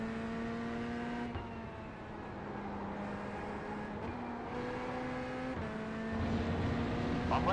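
A Porsche race car in the iRacing video game approaches under the steady drone of the player's own engine, gear shifts breaking the tone several times as the pitch climbs and the sound swells slightly near the end.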